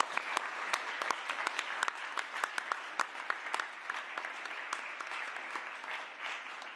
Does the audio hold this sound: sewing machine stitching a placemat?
no